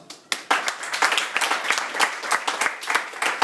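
An audience in a room applauds during a talk, a burst of many hands clapping that starts abruptly and continues in an even, moderately loud patter.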